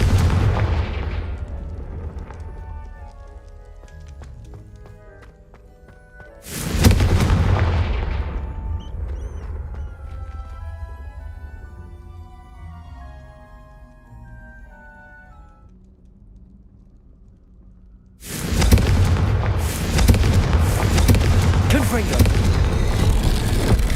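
Confringo fire spell blasts in the video game Hogwarts Legacy, several loud booming bursts with rumbling tails, the first at the start and others around seven and eighteen seconds, set over a game music score.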